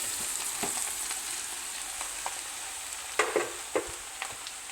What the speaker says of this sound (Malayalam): ഇനി വെജിറ്റബിൾസിലേക്ക് നമ്മൾ ഊറ്റി വെച്ച റൈസ് ചേർത്ത് കൊടുക്കാം